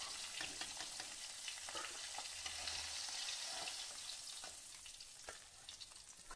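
Khoira fish frying in oil in a pan, a steady close sizzle and crackle with occasional stirring clatter and spits, no talking.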